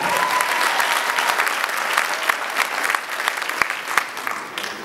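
A large audience at a high school commencement ceremony applauds and cheers loudly and continuously, a dense wash of clapping with scattered whoops close by.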